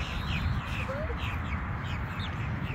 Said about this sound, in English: You see the bird up in the tree?